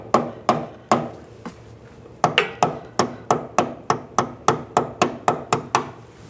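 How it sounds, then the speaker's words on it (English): A rear brake hose clip on a 2008-2017 Buick Enclave is tapped into place with a tool: a close, sharp series of about twenty hard knocks, a few at first, then a short pause and a quick steady run. "just tap it in place"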